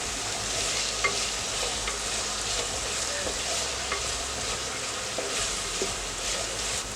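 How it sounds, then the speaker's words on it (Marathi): Chopped onion sizzles and fries in hot oil over a full gas flame, a dense, steady crackling hiss with occasional stirring scrapes, close and continuous without speech. "फुल गॅसवरती आपण कांदा चांगला परतून घेणार आहोत।"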